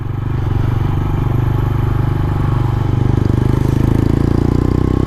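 A motorbike engine runs steadily nearby at a loud, even idle, its rapid pulsing beat holding constant throughout with a slight rise partway through.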